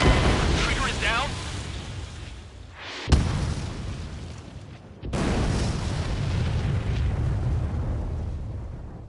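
Missile explosions in a jet combat scene: a roaring blast wash fades, then two sharp booms hit hard, the second opening into a sustained rumbling roar.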